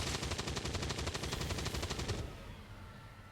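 A turret rattles off a rapid, evenly spaced stream of shots in XCOM 2, firing loudly and close for about two seconds before cutting off into a fading rumble.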